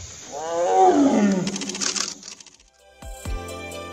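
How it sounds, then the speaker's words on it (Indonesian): A tiger gives one deep, drawn-out roar that swells and falls away, close and loud, followed by a few soft thuds. "harimau juga mengaum"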